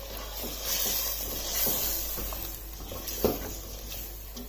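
A paste of onion, tomato and spices hits frying chicken in a pot, giving a steady sizzle with scraping stirs and one sharper clatter partway through.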